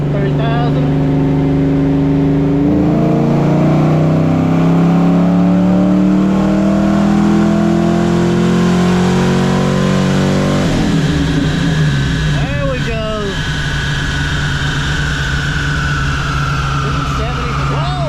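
Fox body car on a chassis dyno in fourth gear with a bolt-on upgrade: a loud, steady engine drone whose pitch climbs over several seconds, drops at a shift, and keeps running, with people talking over it.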